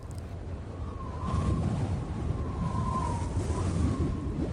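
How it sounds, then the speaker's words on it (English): A strong gust of wind buffets a room and blows a window wide open, a rough low rushing roar that swells after the first second and stays loud, with no speech. "That was quite a big gust. Blew my window wide open."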